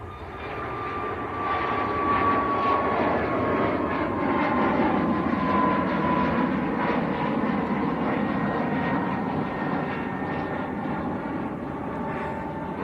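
A Ryanair airliner bound for Brussels at Manchester Airport gives a steady, sustained engine roar that swells slightly and holds, with a faint whining tone running through it. No voices are heard.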